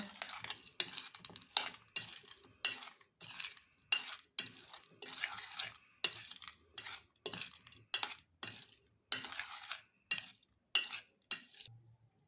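Kabuli aloo chaat being mixed with a little mustard oil, a spoon scraping and clinking against the bowl in steady, regular strokes, close and fairly quiet, with no talking.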